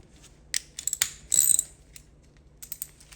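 A ratchet tightens the radiator bolts on an Edsel. Quick bursts of close metallic clicking come in short runs separated by pauses, with no talk.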